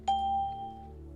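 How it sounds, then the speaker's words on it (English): A trading platform's alert bell strikes once, a clear close ding that rings out and slowly decays, with no talking. "Should be a bell now. Yes, I set the bell up."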